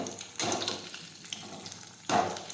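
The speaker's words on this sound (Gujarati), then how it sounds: "હવે આપણે ભીંડો તળી લઈશું." Oil sizzles as okra is dropped in, with two bursts of loud frying, one near the start and one toward the end, over a softer steady crackle.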